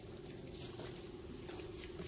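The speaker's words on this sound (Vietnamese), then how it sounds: "lúc này nó có mưa các bạn nhá" Steady rain pattering outdoors in a garden orchard, a dense continuous patter close by with no voices.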